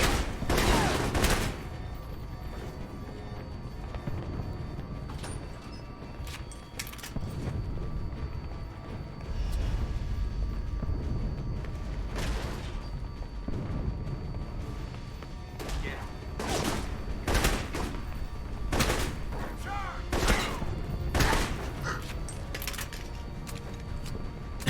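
Turret gunfire in Alpha Protocol rattles out in loud, sharp bursts and scattered shots over a steady background of game noise, with some voices present.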